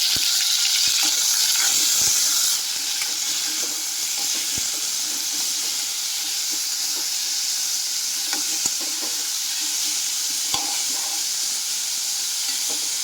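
Onions and tomatoes sauté in a pan with garlic and a bay leaf, giving a steady broad sizzle and hiss. A few sharp clicks of stirring cut in, and the frying is louder in the first couple of seconds, then settles to a constant level.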